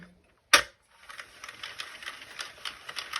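A Sentro knitting machine is cranked by hand after a sharp click, giving a quiet, steady run of rhythmic plastic clicks and ratcheting.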